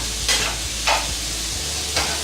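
Mushrooms fry in a kadai with a constant close sizzle, and three quick spatula stirs scrape through it at uneven intervals.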